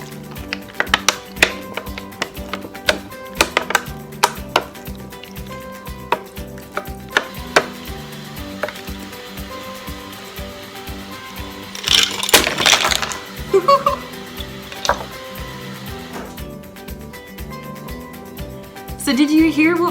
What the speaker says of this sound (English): could you hear the water bottle creaking and cracking as it got sucked in?